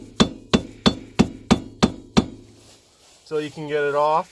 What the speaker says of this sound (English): So just get a little screwdriver. Just kind of tap it a few times